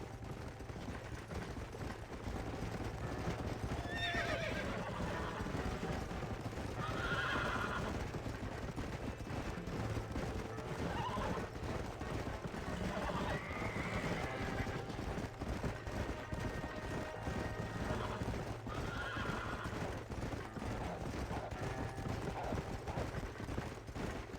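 Horses neigh now and then over steady hoofbeats and a constant noisy rumble, with faint distant gunfire mixed in, in the video game Red Dead Redemption.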